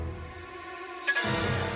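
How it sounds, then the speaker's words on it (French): A magic gong rings in an animated cartoon, with a sustained ringing tone that swells into a brighter, louder clang about halfway through and keeps resonating to the end. "Dommage que ce ne soit pas possible d'éteindre le gong."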